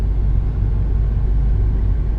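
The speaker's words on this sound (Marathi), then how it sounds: "बघा गाड्या सगळ्या अडकून थांबलेल्या आहेत एवढा ट्रॅफिक आहे इकडे" Heavy road traffic with cars stuck in a jam on the way into Kolhapur, a steady low engine rumble of idling and crawling vehicles close by, continuous with no voices.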